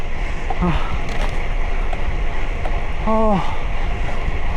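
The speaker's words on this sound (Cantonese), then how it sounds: "而家落斜咧，踩翻快少少咧，叫有啲風吹埋嚟就舒服啲。" Steady wind rushing against the microphone while cycling downhill, a constant blustery roar throughout, with a couple of brief voice-like calls over it.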